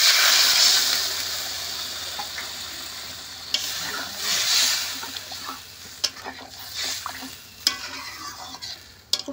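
Water poured into a hot frying pan of vegetables for a vegetarian dish with ridge gourd and lentil fritters sets off a loud hissing sizzle that slowly dies down. Scattered clinks of a utensil against the pan follow.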